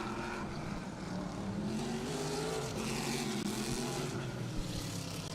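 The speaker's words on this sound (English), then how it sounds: "scuffing the tires off of turn number 2 in car number 88" A NASCAR Whelen Modified race car, number 88, scuffs its tires out of turn two at Riverhead Raceway, a steady loud engine roar holding throughout with broadband track noise and no break.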